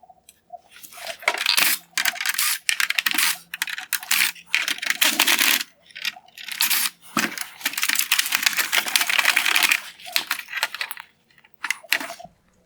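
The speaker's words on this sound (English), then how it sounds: "I've removed 6 Phillips head screws holding this light bar in place" Phillips head screws come out of the light bar of a 2016-2018 Kia Sorento halogen headlight, giving close, bright clicking and rattling bursts separated by short pauses.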